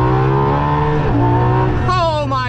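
A Ferrari LaFerrari pulls hard in first gear, its engine note climbing steadily and loudly, dipping briefly, then rising again with a sharp shift near the end, heard close from inside the cabin.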